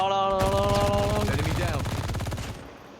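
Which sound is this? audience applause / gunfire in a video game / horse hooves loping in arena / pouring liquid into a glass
gunfire in a video game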